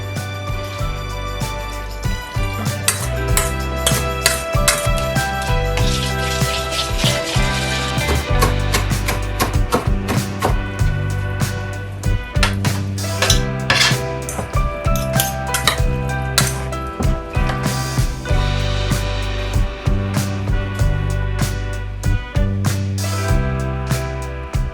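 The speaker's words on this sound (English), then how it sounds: "once it's cooled down a little bit I'm just going to roughly chop everything" Roasted red peppers and tomatoes being roughly chopped with a knife, a steady run of loud, close, rhythmic chopping knocks on a cutting board, no speech.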